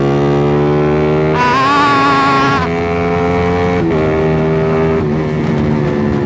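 A motorcycle engine revs hard close by, climbing sharply in pitch, then easing back and surging again in repeated bursts.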